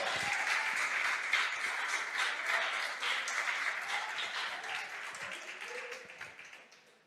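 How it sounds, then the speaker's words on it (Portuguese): A church congregation applauds in praise, a dense wash of clapping that holds steady and then slowly tapers toward the end, with faint voices mixed in. "Você pode aplaudir o nome do Senhor."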